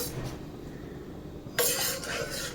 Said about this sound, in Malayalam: അത് ചേർത്ത് പതുക്കെ ഇളക്കിയെടുക്കാം